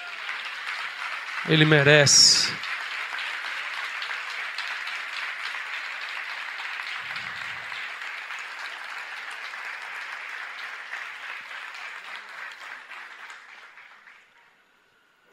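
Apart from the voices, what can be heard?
church congregation applauding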